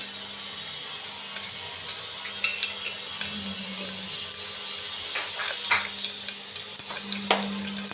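Half a spoon of mustard seeds hitting hot oil for a tempering, giving a steady close sizzle with scattered sharp pops and crackles that grow busier toward the end, no talking.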